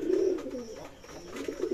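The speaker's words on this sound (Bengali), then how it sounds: "আর পায়রাটা অনেক সুন্দর, সাদা সাদা, তো আমার অনেক পছন্দের।" A white pigeon coos in soft, low repeated phrases close by, with a pause in the middle before the cooing resumes.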